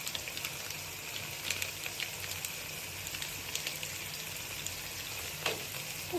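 Ginger and garlic sauté in a pan with a soft, continuous sizzle, flecked with light crackles and faint stirring clicks, heard fairly quietly and with no one talking.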